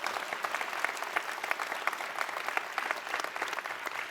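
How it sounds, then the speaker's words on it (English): An audience gives a sustained round of applause at a swearing-in ceremony for a fourth term, with dense, even clapping that stays steady and fairly close throughout. "Give them a big round of applause"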